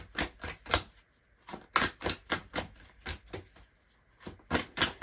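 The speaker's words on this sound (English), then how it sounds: "So let's pull your oracle cards." Oracle cards drawn from a deck, heard as a quick run of crisp, close card flicks and shuffles in an irregular rhythm with brief pauses, without any talking.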